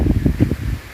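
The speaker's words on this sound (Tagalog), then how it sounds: "Mahangin pa rin." Wind blows outdoors on a farm, a loud, gusty rumble buffeting the microphone in uneven surges over about a second, with no voices.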